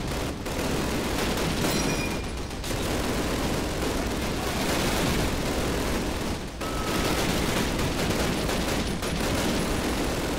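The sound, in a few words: gunfire from Call of Duty video game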